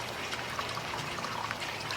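A solar-powered garden waterfall trickles and splashes in a steady, continuous flow, nearby and moderately loud, with no voices.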